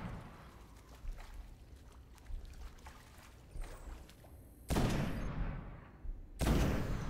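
Gunfire in the shooter game Destiny, a run of soft, distant weapon reports under game ambience, followed by two loud, sharp, close sniper rifle blasts with ringing decays.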